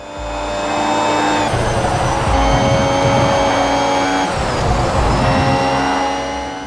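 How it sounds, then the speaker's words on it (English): A high-revving Formula 1 car engine in the 2020 version of the F1 Mobile Racing game whines loudly and steadily, pitch climbing through gears with brief shifts, no voices. "Listen to the 2020 sound."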